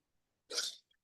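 A single short sneeze, soft and breathy, comes from a man in a quiet room. Stillness surrounds it on both sides.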